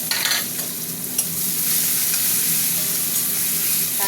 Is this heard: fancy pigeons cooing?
no